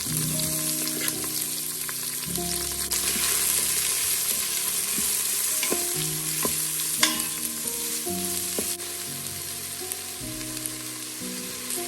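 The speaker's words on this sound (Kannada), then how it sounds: "ಇದನ್ನ ಒಂದು 30 ಸೆಕೆಂಡ್ ಬಿಸಿ ಮಾಡ್ಕೊಂಡ್ಮೇಲೆ ಇದಕ್ಕೆ ಹಸಿ ಮೆಣಸಿನ್ಕಾಯಿ, ಬೆಳ್ಳುಳ್ಳಿ ಮತ್ತು ಈರುಳ್ಳಿ" Green chillies, garlic and onion frying in hot oil, a loud steady close sizzle with stirring and light clinks throughout, and low tonal hums drifting underneath.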